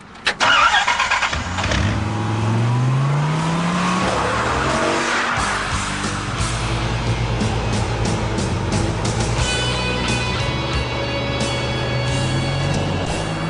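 A Dodge Viper 8-litre sports car roars as its engine starts, then drives hard with tires squealing loudly and continuously. The engine note climbs and falls as the car slides, close and loud, with no talk.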